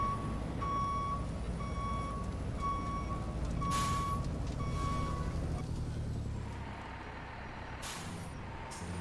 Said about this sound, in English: Let's put her in reverse.